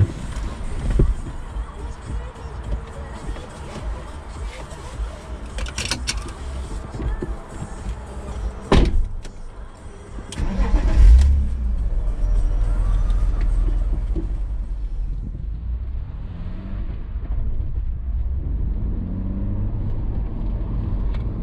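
A car engine, a BMW Alpina B3 or Mercedes-Benz AMG A45, idles with a low rumble under occasional speech and handling noises, then swells into a deeper, louder throb around the middle as it warms up before pulling away.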